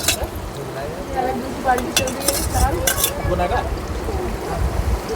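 Masala sizzles and fries in a pan for Maggi while a utensil scrapes and stirs it with quick metallic clinks, a voice talking faintly underneath.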